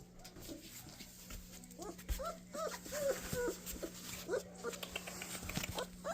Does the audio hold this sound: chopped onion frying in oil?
no